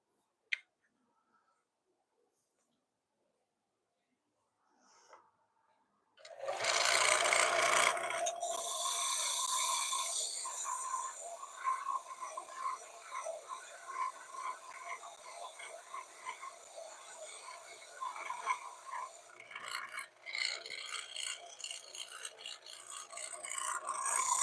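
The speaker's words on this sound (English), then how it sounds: "Super cheap sander here." A cheap benchtop disc sander with a 90-degree platform starts up after near silence, then runs on as a loud, steady buzzing whir with rattling and slight fluctuations, close by in a woodshop.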